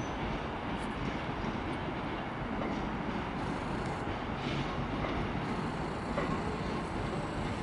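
Class 323 electric multiple unit rolling into Manchester Piccadilly station, a steady broad rumble of train and rail noise with faint wheel clatter, continuous and moderately distant with no talk.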